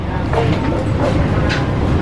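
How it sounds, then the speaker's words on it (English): A driverless airport train at Hong Kong International Airport rolls along with a steady low rumble and rattle from the cabin, loud and continuous, with brief faint sounds above it. "Driverless train. Isn't this something?"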